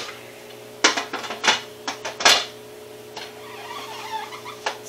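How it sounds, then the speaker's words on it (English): A metal lid set onto a home canner packed with jars of dry-canned potatoes, giving a cluster of close clanks and scrapes of metal on metal over a low steady hum, alone without talk. "All my jars are in the canner. Put the lid on it."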